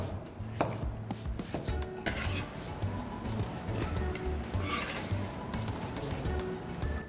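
A knife chops tomato on a board for a neem flower salad with pork, a string of close, rhythmic cutting taps that continues with no talking.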